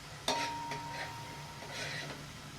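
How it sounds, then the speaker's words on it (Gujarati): Spice masala of coriander-cumin and red chilli powder cooking in oil in a pan for matar misal, a soft close sizzle with a light scrape or clink near the start. "સતળાઈ ગયું સરસ. તેલ છૂટું પડવા માંડ્યું."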